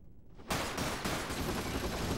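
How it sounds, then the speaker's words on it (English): Rapid automatic gunfire from a boss enemy in the Final Fantasy VII game Dirge of Cerberus, erupting suddenly after a quiet moment and continuing as a steady, fast burst of shots. "Oh, his gun shoots faster in cutscenes."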